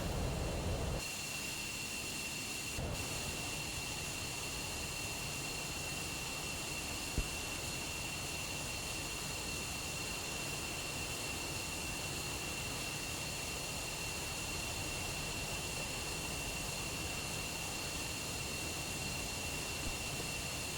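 Steady, continuous roar of an F-15 fighter's jet engines in the DCS flight simulator, a broad unbroken hiss-like drone holding at even loudness throughout.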